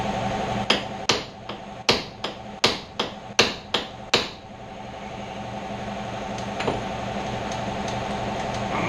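Metal hammer blows drive a pulley onto the shaft of a new shop fan motor, about ten sharp, close strikes in an uneven rhythm, followed by a steady background hum.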